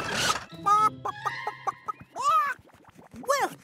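In a children's cartoon, a chicken voice gives a short run of loud, close clucks and squawking calls in quick, uneven bursts, most likely a performer imitating the bird.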